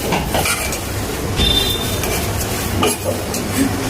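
A mixture being stirred continuously while cooking, giving a dense, loud, unbroken rustling and scraping with faint clinks from the pot throughout.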